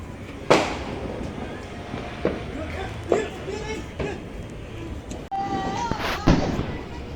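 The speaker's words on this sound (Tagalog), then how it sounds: "Fireworks." New Year's Eve fireworks boom and crackle at a distance, several sharp bangs spread out over a steady background rumble, with people talking faintly.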